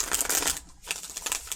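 Tarot cards being shuffled by hand, a close, loud riffling flutter that pauses briefly and then resumes in quick bursts.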